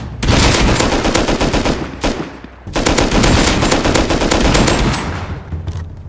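Assault rifle fire in the survival game Rust, two long loud bursts of rapid automatic shots at close range broken by a short gap, with the shooting tapering off at the end.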